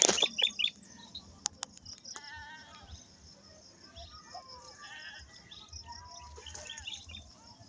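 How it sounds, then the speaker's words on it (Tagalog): A sharp, loud burst of harsh, angry bird calls opens, then lighter chirps and tweets continue faintly against a quiet outdoor background. "Nagalitan tayo ng ibon mga kabusing."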